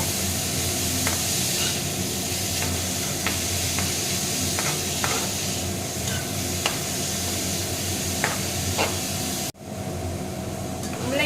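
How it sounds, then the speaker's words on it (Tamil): Grated radish being stirred and sautéed in a hot pan for spicy radish chutney produces a constant loud sizzle, with scattered scraping stir strokes and a sudden brief drop near the end before the frying resumes. "இதையும் நல்லா கலந்து விட்டு வதக்கிக்கலாங்க"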